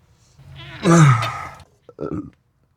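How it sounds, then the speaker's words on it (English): A man lowering a 2005 Subaru Forester lets out a loud, deep, drawn-out burp up close, followed a moment later by a short, softer second grunt-like sound. "Asks for my help, burps in my face."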